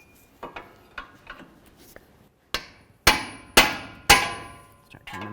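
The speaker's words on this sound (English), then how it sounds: "I'm going to use a pickle fork and my hammer, and I'm going to try to separate the ball joint from the knuckle" A hammer strikes a pickle fork driven between a ball joint and steering knuckle on a 2007-13 Nissan Altima's lower control arm: about eight sharp metallic clangs, lighter early taps followed by four heavier, ringing blows, close and with no talk.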